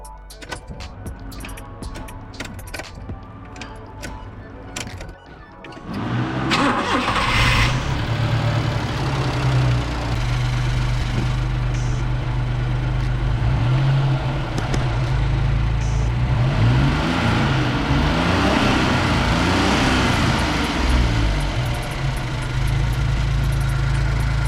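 A car engine, jump-started with a booster pack, turns over and catches, then idles with a steady rumble and several rising revs, close and loud with no talking.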